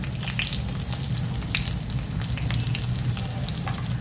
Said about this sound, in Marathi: हा तेलावर छान परतून घेऊ लालसर